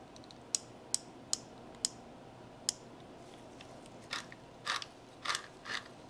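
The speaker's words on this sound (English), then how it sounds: "now we're getting that crunchy, locked up bearing situation that we were talking about before" A fishing reel with a locked-up bearing gives a series of sharp crunchy clicks while the handle is turned by hand, then rougher grinding bursts, all faint and close in a quiet room.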